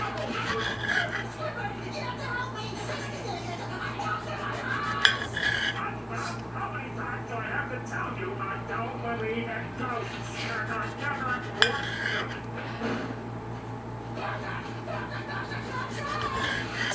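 A knife cuts tomatoes on a board while cooking tacos with toddlers, making scraping, rasping strokes and a few sharp clinks over a low steady hum, with voices talking throughout.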